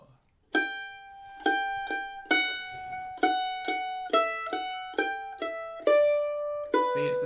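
A mandolin picks a bright melodic phrase from "Blackberry Blossom", each plucked note ringing and decaying before the next, in a steady, moderate rhythm, close and clear.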